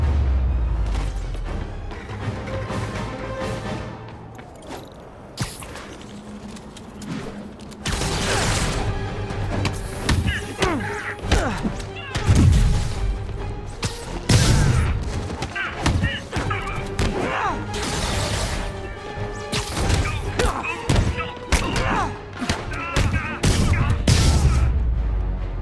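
Gunfire, heavy thuds and crashes hit a police vehicle in the Spider-Man PS4 video game, loud and dense, with booming impacts and scattered voices throughout.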